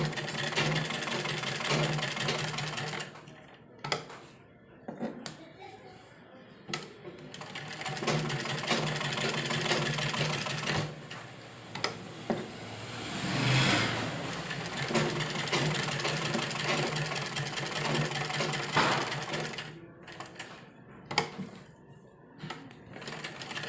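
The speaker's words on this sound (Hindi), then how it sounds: "और इसके बाद हम इसमें यहाँ पर एक सिलाई चला देंगे ताकि हमारा दबा रहे" A sewing machine runs a seam through fabric for a designer sleeve, its close, steady whirring continuing for long stretches and broken by a few brief pauses.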